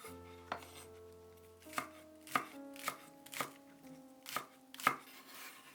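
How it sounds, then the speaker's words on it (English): A knife chops a green onion on a cutting board, seven or eight sharp, separate thwacks coming at an uneven rhythm, close and clear with a soft musical tone ringing underneath. "Chop 1 green onion."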